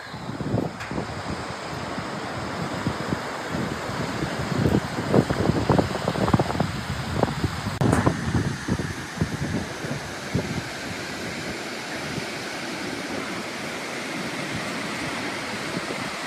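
Skógafoss waterfall in Iceland roars as a steady, broad wash of falling water, heard close and continuous, with wind buffeting the microphone and no voices.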